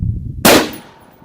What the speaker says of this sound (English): I've got about 13 rounds left in here. Let's just go ahead and shoot them.